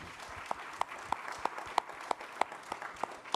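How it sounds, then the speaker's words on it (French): Applause for a new minister at a conference on mental health and healthcare: a faint, distant bed of audience clapping with one nearer person's regular, evenly spaced claps standing out above it. "notre nouvelle ministre, qu'on peut applaudir"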